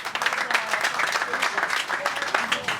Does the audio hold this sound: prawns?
no